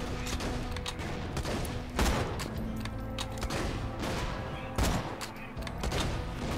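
Shotgun fire in the video game Borderlands 2: a dense run of sharp gunshot blasts crackling over several seconds, with heavier booming hits near the two- and five-second marks, close and loud.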